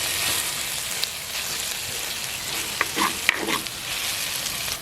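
Onions sizzle and fry in a pan for a Jaffna-style spicy quail curry, a steady soft crackle at moderate distance with a few faint clinks of stirring and no talking.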